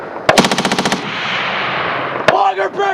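Marine Corps machine gun firing a rapid burst of about eight close, loud shots at a desert range, followed by ringing echo and another sharp report with shouted voices nearby.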